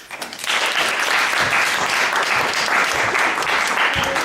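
Audience at student union election hustings giving a round of applause, a steady, dense clapping that swells in after a short lead-in and continues evenly to the end.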